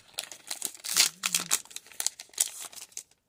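A Pokémon XY Evolutions booster pack being torn open makes close, loud crinkling and rustling foil in rapid bursts, with one brief tearing rip partway through.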